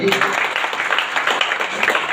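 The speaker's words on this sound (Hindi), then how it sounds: "इनके लिए एक बार और जोरदार ताली।" Loud, dense applause from an audience at an Ayurveda event in Garoth, Madhya Pradesh, for a dholak player, steady and continuous throughout with no pauses.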